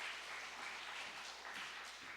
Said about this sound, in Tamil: அவங்களுக்கும் உங்களுடைய வாழ்த்துக்களை கைத்தட்டல் மூலமாக தருமாறு அன்போடு கேட்டுக்கொள்கிறேன்